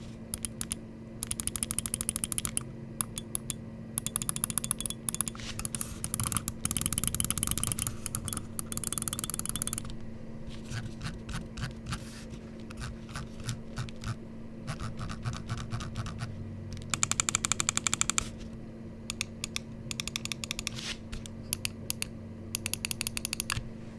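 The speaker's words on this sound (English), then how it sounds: "let's go ahead and drop a click quality sound test" An MCHOSE A7X Ultra magnesium alloy mouse gives rapid, crisp clicks in dense bursts and runs, close-miked over a low steady hum, with no speech.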